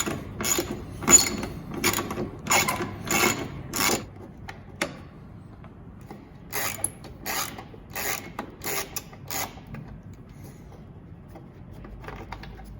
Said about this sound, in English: You have two screws you have to take out here, one here, and that'll give us access to the light.